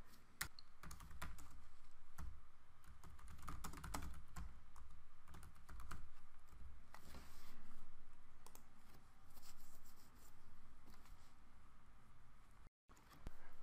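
Steady typing on a computer keyboard, with dense, rapid key clicks running nearly the whole time at close range and a brief pause near the end; no voices.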